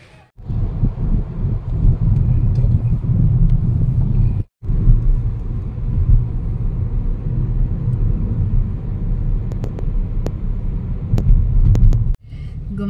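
Vehicles kept parked at home are started up and run one by one, giving a steady, loud, low engine rumble that drops out briefly twice and continues alone.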